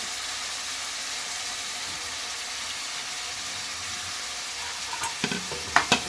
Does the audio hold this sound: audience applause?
no